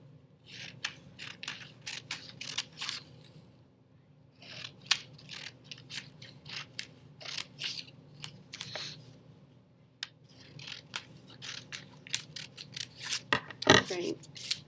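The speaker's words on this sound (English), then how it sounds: "we're actually going to cut in between our questions" Scissors cutting between sections of paper pages for a pressed-flower notebook: quick crisp snips in close clusters, pausing between rounds, fairly quiet, with a brief rustle near the end.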